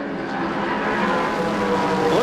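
Vintage race cars, including a 1974 Porsche 911 RSR, roar past at a Rolex Reunion race, a loud dense engine drone swelling briefly as a car approaches and its pitch shifts at the end.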